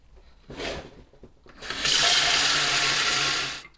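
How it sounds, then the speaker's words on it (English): Hot water runs from a tap into a container during a campervan clean, a short splash first, then a steady loud rushing fill lasting a couple of seconds before cutting off. "I'll fill this up with some hot water"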